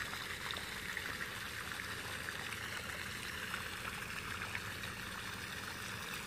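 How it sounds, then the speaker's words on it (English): Water from a backyard pool fountain splashes and trickles steadily at night, a constant, even wash of sound heard from nearby with no voices. "There's the pool, and then there's the fountain right over there."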